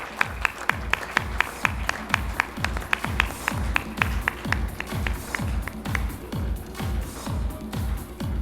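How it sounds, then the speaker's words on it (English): Applause at an awards ceremony for a hotel staff award winner, heard as a steady run of distinct claps with low thumping underneath, close and fairly loud throughout. "Let's put our hands together for Sukanta Panda from Ginger Bhubaneswar."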